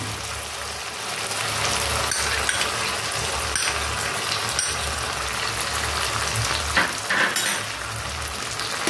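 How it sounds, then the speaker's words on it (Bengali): Cashew and poppy seed paste sizzles in hot spiced oil for a fish malai curry, a loud, steady frying hiss that carries on without a break, with a few brief spatters. "আর আমি এখন দিয়ে দেব কাজু আর পোস্তর পেস্টটা দিয়ে দেবো।"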